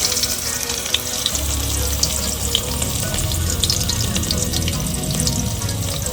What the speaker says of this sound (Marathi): आता आपल्याला कांदा फ्राय करून घ्यायचा आहे त्याच्यामध्ये.